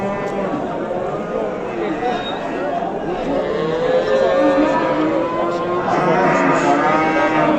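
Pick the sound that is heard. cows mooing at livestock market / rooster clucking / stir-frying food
cows mooing at livestock market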